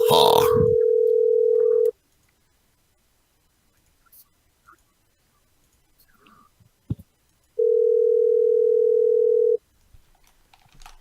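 A telephone dial tone plays as a loud steady hum for about two seconds, drops away to near silence with faint rustles and a click, then returns for another two-second stretch.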